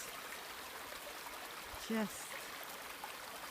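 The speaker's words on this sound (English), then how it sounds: "the sound of the water flowing across the rocks" A natural stream running over rocks on a nature walk, a steady soft broadband wash of flowing water that continues throughout, with someone briefly speaking a single word near the middle.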